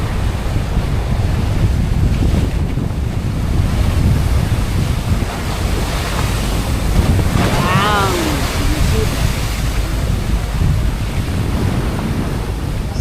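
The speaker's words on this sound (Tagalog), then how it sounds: "Mula ng paglaot namin ganito na ang alon." Heavy Pacific Ocean waves and strong wind roar continuously at sea, with wind buffeting the microphone and a brief high whistle partway through.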